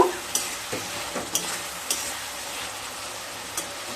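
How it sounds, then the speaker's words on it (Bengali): Prawns and fried potatoes are stirred with spices in a frying pan, a continuous sizzle broken by sharp scrapes and clicks of the spoon at irregular intervals. "মশলার সাথে খুব ভালোভাবে মিশিয়ে নেব"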